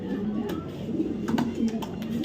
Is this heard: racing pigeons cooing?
yes